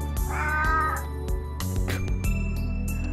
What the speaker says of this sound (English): That sounded like a dying cat.